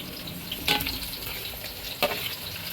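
Tomatoes tipped into a hot frying pan for a home-style fish gravy: a steady oily sizzle and frying hiss with two brief louder bursts of spatter and stirring, close and moderately loud, with no talking.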